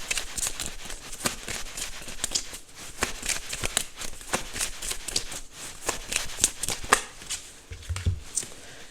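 Tarot cards handled and shuffled from a deck, a rapid run of close, crisp riffling clicks and flicks with brief pauses, no speech over it.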